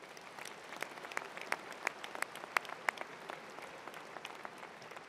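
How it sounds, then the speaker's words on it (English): Renewed applause for a commencement speaker at an evening graduation ceremony: a fairly quiet, distant crowd clapping with a few sharper individual claps standing out at an irregular rhythm throughout. "Let's give her another round of applause."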